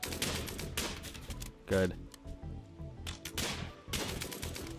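Colonists open fire in Rimworld, and short bursts of rapid game gunfire crackle in clusters between pauses while someone talks over them.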